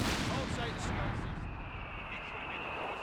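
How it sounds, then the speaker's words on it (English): An artillery barrage in the WWII strategy game Company of Heroes 3 makes a dense, continuous roar of rumbling blasts, with a voice talking over it. "It goes really far, barrage out the back onto the mortar."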